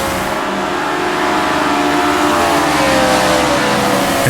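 1960s Japanese sports cars race at Suzuka in Assetto Corsa, their engines revving loud and close in a steady, rising drone of mid-pitched engine noise, continuous throughout with no talking.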